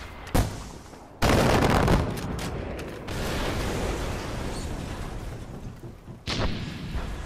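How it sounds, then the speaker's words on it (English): Mortar and gunfire from the Far Cry 4 video game: a sharp shot is followed by a heavy boom that rumbles and decays, then later another burst. Dense, loud combat noise fills the gaps between them. "Where's that fuckhead using the mortar?"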